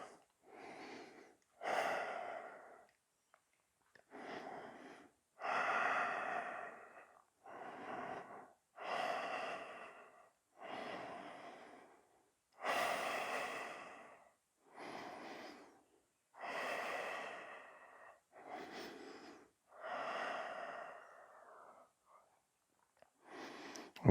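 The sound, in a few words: heavy breathing during yoga leg and arm strengthening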